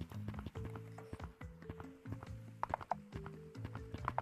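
A horse in the Gorilla Tag video game makes quiet, rhythmic clip-clop hoofbeats in a steady trotting pattern, with a few small bright electronic blips near the end.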